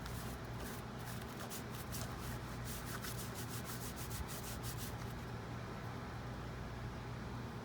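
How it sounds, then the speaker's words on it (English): A wet cloth wiped across a sanded board to lift the dust, producing soft, quiet, rapid rubbing strokes for about five seconds before it fades to faint background noise. "Let's get our wet cloth here. Take the dust off."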